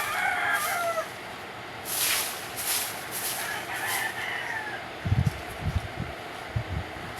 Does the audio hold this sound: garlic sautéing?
no